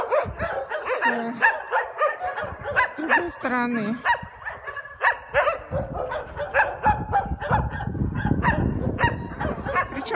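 Many dogs bark and yip in outdoor shelter enclosures, a busy overlapping chorus of barks with some whimpering, while a person talks nearby.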